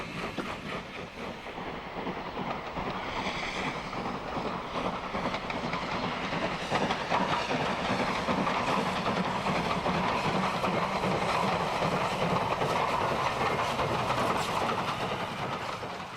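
A Southern Railway M7 tank steam locomotive with 0-4-4 wheel arrangement runs along the rails, giving a steady, dense rumble with rhythmic clicking and hissing that holds a fairly even loudness for the full stretch.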